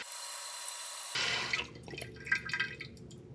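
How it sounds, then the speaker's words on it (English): Water runs into a toilet tank after a Fluidmaster 400A flush valve replacement: a steady rushing fill that cuts to softer trickles, drips and small splashes as the tank refills, close by and fairly quiet. "You can hear that water running there."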